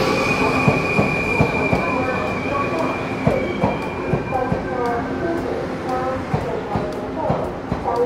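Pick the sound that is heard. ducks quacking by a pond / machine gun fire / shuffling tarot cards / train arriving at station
train arriving at station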